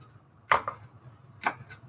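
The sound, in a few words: chopping onion and bell pepper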